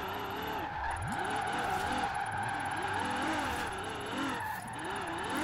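Car engine revving while drifting in Forza Horizon 4, a rising and falling engine whine that swoops repeatedly as the throttle is worked, with steady tyre and road noise throughout.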